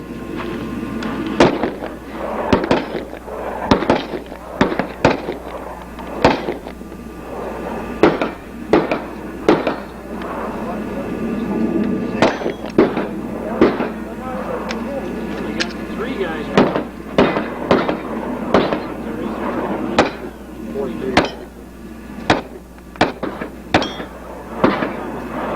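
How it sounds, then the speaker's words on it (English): Loud, repeated sharp cracks of machine gun fire at an outdoor gun shoot, with a possible whirring ricochet from a marginal hit, in uneven bursts and single reports across the whole stretch under steady background noise. "You may have heard just a few seconds ago a whirring sound from a marginal hit and ricochet"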